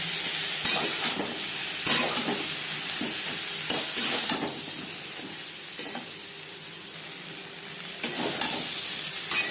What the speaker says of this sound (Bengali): পাঁচ ছ মিনিট পটল ভেজে নেওয়ার পর একটা পাত্রে উঠিয়ে নেব